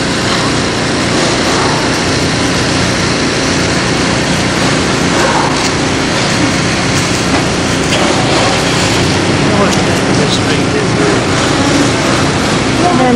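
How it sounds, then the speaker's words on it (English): Pumps running steadily in the background to drain flooded basements during the 1993 flood, a continuous broadband mechanical drone with no breaks, loud and close, with faint talk beneath it. "the noise you hear in the background are pumps running to pump out basements"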